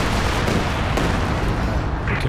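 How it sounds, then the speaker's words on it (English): A dense, continuous rumble of artillery explosions from a creeping barrage in the real-time strategy game Company of Heroes 2, loud and unbroken with layered booms and distant gunfire throughout. "Oh, creeping barrage."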